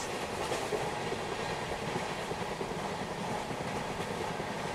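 An Indian Railways superfast express, the Karnavati Express hauled by a WAP7 locomotive, rolls along with a steady loud rumble and clickety-clack of wheels on the track, heard continuously from on board.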